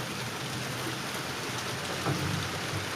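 Steady rain patters down continuously, a dense even hiss of drops at moderate loudness, with no talking.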